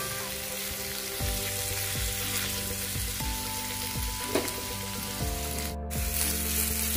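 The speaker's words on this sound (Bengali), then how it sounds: "আলু, মূলো আর গাজর 2 মিনিট ভেজে নিচ্ছি।" Potato, radish and carrot pieces fry in oil with salt and turmeric, a continuous soft sizzle at moderate distance, with a faint background hum and a brief spray-like burst near the end.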